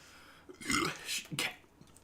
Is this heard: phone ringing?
no